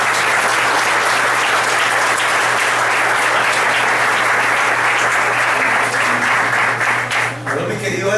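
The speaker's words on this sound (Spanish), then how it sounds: "Un aplauso." A church congregation applauds in a steady, dense round of clapping that fills the space for several seconds before thinning out near the end.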